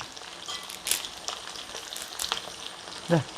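Green chillies and curry leaves fry in a pan with a soft, steady sizzle, broken by a few sharp crackles and one louder pop near the end; no one speaks.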